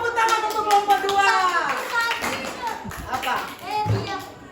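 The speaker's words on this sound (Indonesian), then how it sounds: "tepuk tangan untuk kelompok 2" Children in a classroom clap for a group: a burst of small hands clapping mixed with lively kids' chatter and an adult voice talking over it, fairly loud and close.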